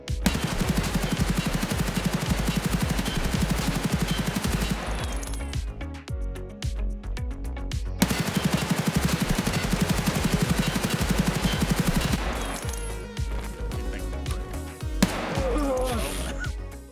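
Rapid automatic gunfire from Escape From Tarkov as a full magazine is dumped in two long sustained bursts with a pause between, loud and close, ending in a few scattered shots.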